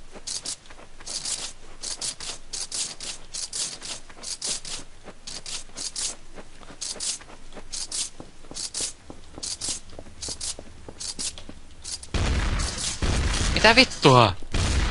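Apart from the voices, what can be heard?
gunfire in the video game Counter-Strike: Source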